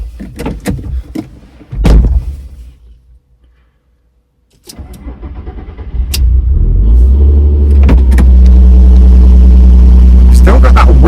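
Volkswagen MK4 R32 with a DSG conversion starting up, a door thud and clicks first, then the engine cranking and settling into a loud, close, steady idle rumble carrying a faint odd noise.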